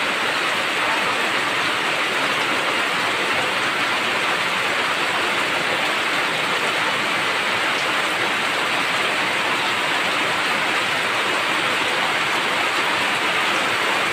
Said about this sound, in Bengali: দেখতে পাচ্ছেন মুষলধারে বৃষ্টি পড়ছে, খুবই জোরে বৃষ্টি হচ্ছে